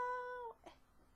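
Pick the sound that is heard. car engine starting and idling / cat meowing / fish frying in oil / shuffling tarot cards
cat meowing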